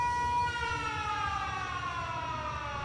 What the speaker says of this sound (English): So it goes through, it just does one siren like that.